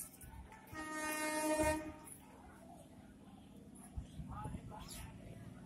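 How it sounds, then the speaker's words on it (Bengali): A train passes at Sankrail station, heard faintly from a distance: a horn blares for about a second near the start, followed by low rumbling while people talk nearby. "ট্রেন গাড়ি জ্বালা ট্রেন গাড়ি"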